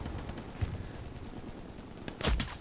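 Gunfire in the World War II shooter game Hell Let Loose, with a few scattered reports early on and a louder, denser burst of shots near the end over steady background battle noise.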